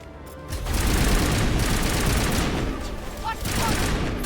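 Battle gunfire in the video game Mass Effect, a dense, loud, sustained fusillade of rapid shots and bursts that roars on almost without a break, with a voice faintly audible underneath.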